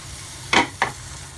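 Two quick scraping stirs pass through sizzling tomato pasta sauce in a hot pan, close and brief against a low steady background hiss.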